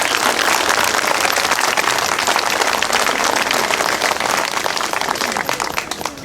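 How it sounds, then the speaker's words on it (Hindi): An audience at a live gathering claps in a dense, steady wash of applause that lasts throughout and eases slightly at the end. "जिसकी घूमती है वो ताली बजाए"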